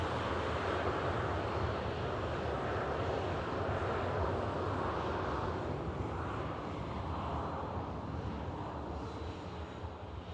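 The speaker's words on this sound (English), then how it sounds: "Yes, I can hear the 330" An Airbus A330 airliner taxiing at Manchester Airport, a steady, broad engine roar and whine holding constant throughout, heard from some distance with no talk.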